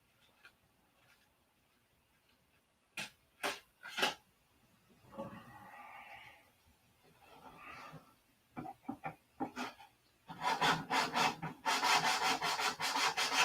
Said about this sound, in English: I'll get it sanded out smooth here right now